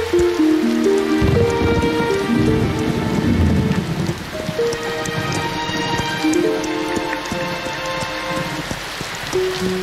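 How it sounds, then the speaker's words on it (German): Heavy rain pours steadily on the prairie in the German Yakari cartoon, a dense continuous wash that runs throughout beneath loud musical score. "Es gießt jetzt schon seit Tagen in Strömen."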